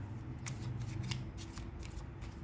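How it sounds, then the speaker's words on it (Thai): Tarot cards are shuffled and flipped over at close range during a reading, making quick papery slaps and riffles in a short, brisk run with no talking. "เดี๋ยวเรามาเปิดไพ่เพิ่มค่ะทุกคน"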